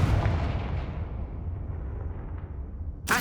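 A Confringo fire-spell blast from the Hogwarts Legacy video game: a loud, dense burst that rumbles and slowly fades over about three seconds, followed by a sharp new impact right at the end.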